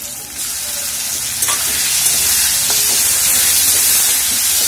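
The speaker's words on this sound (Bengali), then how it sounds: "এর মধ্যে আমি টমেটো পিউরি দিয়ে দিলাম" Tomato puree poured onto potatoes frying in oil in a pan, setting off a loud, close sizzle that swells after a sharp splash and holds steady and hissing to the end, with no voices.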